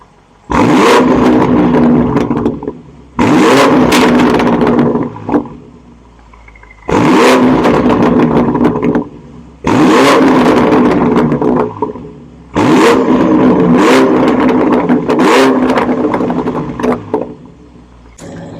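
A 2024 BMW M8 Competition Gran Coupe in Frozen Black with M Performance exhaust revs loudly in Sport Plus with the exhaust valves open, giving five strong bursts that climb and then drop back, separated by short pauses at idle.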